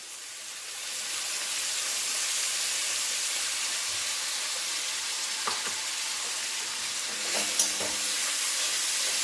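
Steady sizzling of ginger-garlic paste frying in a hot pan, with a few scraping stirs of a spatula near the end, no voices.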